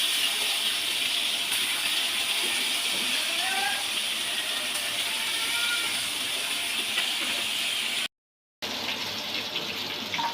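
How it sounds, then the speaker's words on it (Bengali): Fish frying in a wok on an electric stove gives a loud, steady sizzle that runs unbroken except for a brief gap near the end. "এখন আজ মাছগুলো ভেজে নিচ্ছে।"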